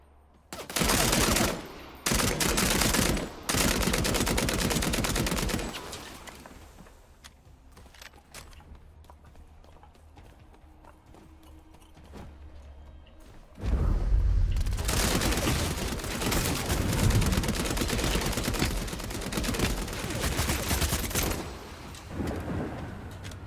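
Gunfire from the video game Vampire: The Masquerade - Bloodhunt comes in loud bursts early on, goes quiet through the middle, then returns as a sustained rattling barrage near the end.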